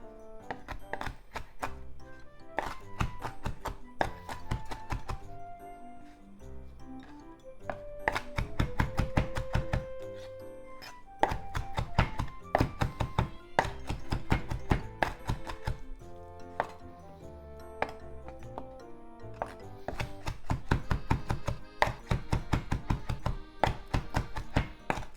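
A knife chops and minces shrimp on a cutting board for fried shrimp gyoza, the blade striking in steady rapid bursts of close, crisp taps with brief pauses between runs; no talking.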